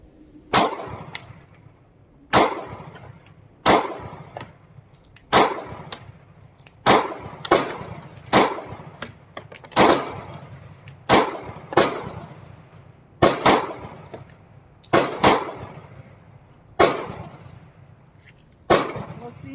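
A Sig Sauer P365 pistol fires about a dozen loud, sharp shots at uneven intervals, each crack followed by a short echoing decay across an outdoor range.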